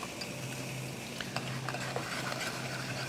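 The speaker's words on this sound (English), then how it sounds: "the more I whisk it in, the shinier it gets" Whisk stirring butter into zucchini puree, soft rapid scraping and light clicks of the whisk against the bowl, quiet and continuous beneath a low hum.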